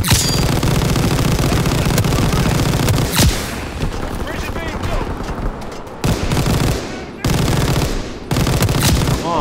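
A machine gun turret firing in Call of Duty: WWII, loud sustained bursts of rapid gunfire with booming impacts and short gaps, with voices talking underneath.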